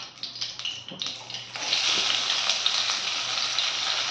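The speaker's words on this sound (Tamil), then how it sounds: "இப்போ ஆனியன் போட்டு நல்லா வதக்கிட்டு" Onions dropped into hot oil for paya curry burst into a loud, steady sizzle after some stirring clatter, continuing close and unbroken.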